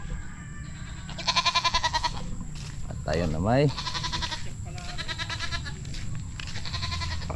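Goats bleat repeatedly and loudly nearby, their wavering cries recurring throughout, while someone talks over them outdoors.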